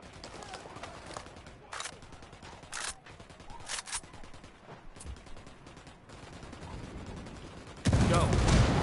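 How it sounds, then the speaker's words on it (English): Bursts of gunfire and scattered single shots from the video game Ghost Recon, mostly moderate and slightly distant, with a loud dense burst at the end. "Opening fire on these fuckers."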